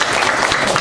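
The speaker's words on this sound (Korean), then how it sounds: "신현태 매니저 박수로 맞아주세요" A brief burst of dense clapping from a class audience at a presentation academy self-introduction session welcomes a manager, continuous and close throughout.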